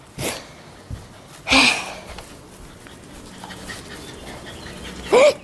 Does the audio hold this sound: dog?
yes